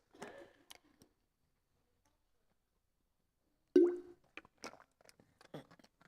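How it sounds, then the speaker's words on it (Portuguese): A speaker pauses during a sermon to sip a little water, giving a soft close click and a quiet gulp, then a long silence before a louder swallow-like plop and a scatter of small mouth clicks and faint sounds. "vou beber um bocadinho de água"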